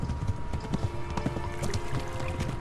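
Horse hooves clopping in Kingdom Come: Deliverance, a steady rhythm of close thuds over a busy, noisy game soundscape, with no speech.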